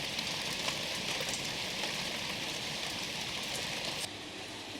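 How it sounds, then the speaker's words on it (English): Steady rain falls outdoors, a dense, even hiss of drops hitting surfaces that continues throughout at moderate volume, easing slightly near the end. "Listen to the rain."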